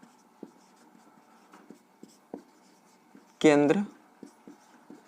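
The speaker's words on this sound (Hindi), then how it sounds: "यहाँ पे हम लोग लिखते हैं" Pen scratching across paper while labelling a circle diagram in a Class 10 maths lesson, a few short scribbling strokes spread through the clip beside a brief spoken word and one loud handling bump.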